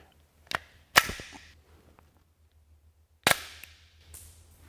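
Three sharp pistol cracks from silent blank rounds, with short echoing tails, spaced apart against a quiet low hum, the first one softer.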